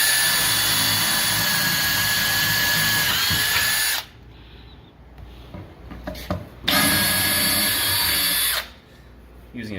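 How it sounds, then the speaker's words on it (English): Power drill boring into a box with a 1/4 inch bit, loud steady whine running alone for about four seconds, stopping, then a second near burst before cutting off. "drill about 1 inch in from the side"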